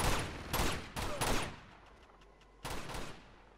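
Gunfire from a weapon in Uncharted 2 comes in short bursts: a cluster of loud, sharp shots early on, a quiet gap, then another burst near the end.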